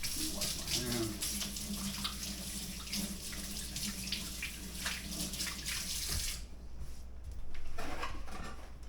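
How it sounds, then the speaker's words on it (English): Tap water runs steadily into a kitchen sink while hands are washed under it, a continuous splashing hiss at moderate level that stops near the end, leaving faint room noise. "Wash my hands."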